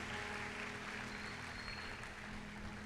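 A church congregation applauds together at a Portuguese-language worship service, a steady wash of clapping held at an even, moderate level from start to finish, with low hum underneath.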